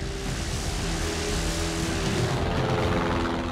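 A Farman Goliath propeller airliner at Le Bourget airport gives off a steady, droning engine hum that holds a constant pitch throughout the short stretch, with no voices.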